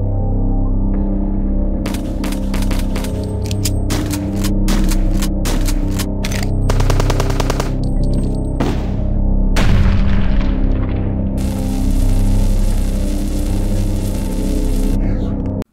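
Weapon fire and explosions from the first-person shooter Hrot, with repeated sharp booming shots and bursts layered over a steady low hum, some blasts clustered closely and a longer noisy burst near the end.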